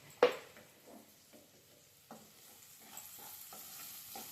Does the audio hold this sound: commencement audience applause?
no